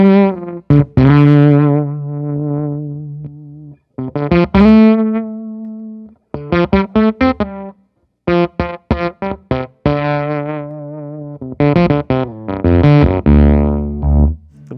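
An electric guitar played through a fuzz pedal with the starve set barely working while the bias is adjusted, giving loud, gated, sputtering notes and chords in choppy bursts with abrupt cutoffs and gaps.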